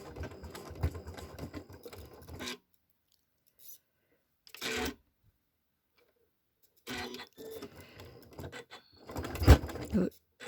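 A sewing machine stitches a stocking's centre seam in short bursts of rapid mechanical clatter separated by silent pauses, close by, with a voice talking between bursts.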